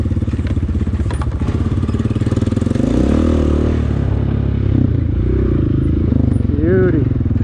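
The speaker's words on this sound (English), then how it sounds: "The best bike to learn on. Definitely a Honda." A Honda motorcycle engine rumbles steadily while being ridden low and slow off-road, the drone holding close and loud throughout with a voice talking over it.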